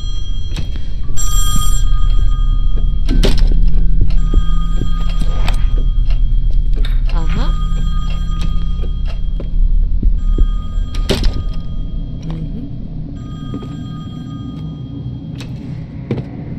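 An old-style telephone bell rings in repeated bursts, loud and close, with thumps and room noise underneath and no talking.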